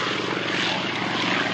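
A Hawker Hurricane taxis out at a warbirds airshow at Wroughton Airfield, its piston engine giving a loud, steady throbbing drone with a pulsing propeller beat throughout.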